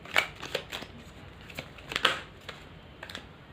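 Tarot cards being shuffled and handled: soft, irregular riffles and papery taps spaced across the moment, quiet and close with no talking.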